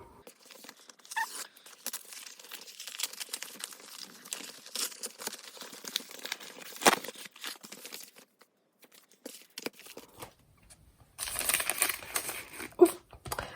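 Mailed package holding a leather cover being torn open by hand, close and fairly quiet paper and plastic crinkling and ripping in irregular bursts, with a louder tearing flurry near the end.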